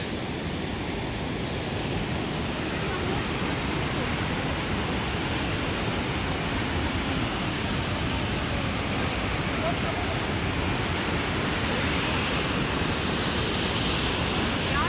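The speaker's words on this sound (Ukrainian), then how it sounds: "Шум річки" Rushing mountain river in Yaremche pours in a steady, loud broadband roar, close and continuous throughout with no break.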